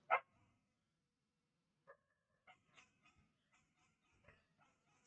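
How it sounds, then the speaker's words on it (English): Dogs bark somewhere in the distance behind an online class. One sharp bark comes first, followed after a pause by a scattered run of fainter barks and yips. "And the dogs are also barking suddenly."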